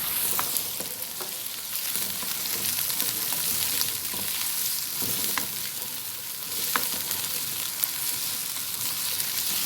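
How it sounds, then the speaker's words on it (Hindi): Chopped bell pepper and peas fry over high heat in a pan for egg fried rice, giving a steady, loud, close sizzle with occasional stirring scrapes and pops throughout and no talking. "अब इसमें ये शिमला मिर्च ऐड कर दूँगी चॉप वाली, और मटर, इनको भी हल्का सा फ्राई कर लूँगी"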